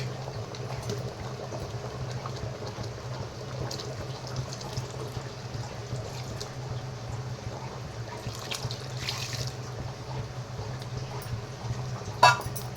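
Flour-and-water batter for coconut-milk kozhukattai bubbling in a pot, a continuous thick bubbling and gurgling heard up close, with a sharp clink near the end and no speech.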